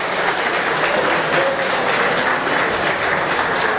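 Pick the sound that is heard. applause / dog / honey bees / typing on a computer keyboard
applause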